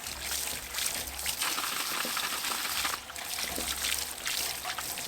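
Water rinsing through clogged 90mm stormwater pipe end caps, a continuous close hiss of running, splashing water with no talking.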